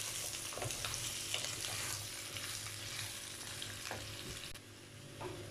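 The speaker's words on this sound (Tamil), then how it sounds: "இது ஒரு 2 நிமிஷம் இந்த எண்ணெயிலே வதங்கட்டும்." Pumpkin pieces fry in hot oil for a Tamil pepper poriyal, a steady close sizzle with faint stirring scrapes, no talking.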